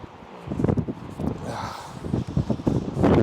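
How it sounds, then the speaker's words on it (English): Strong outdoor wind buffets the microphone during an oil-painting session at a portable easel, low gusty rumbles rising and falling in uneven bursts with faint rustling. "You can hear that wind."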